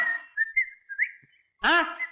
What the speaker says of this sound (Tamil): அதான் பதில் கூட விசில்லே வருது